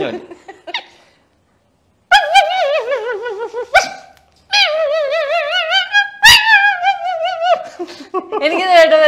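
A person imitates a small dog with high, wavering yips and whines in several bursts separated by short pauses, with some laughter mixed in.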